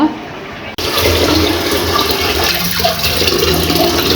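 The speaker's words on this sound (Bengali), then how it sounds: "এখন এই শাকগুলি ধুয়ে নিব" Running water splashing loudly as leafy greens are washed in a village kitchen, a brief pause near the start and then a steady gushing flow with small clinks and handling sounds.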